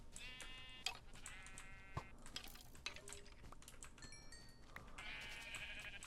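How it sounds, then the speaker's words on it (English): Sheep bleat repeatedly in Minecraft, several separate nasal calls spaced across a few seconds, fairly faint against a quiet background with small clicks in between. "There are so many sheep."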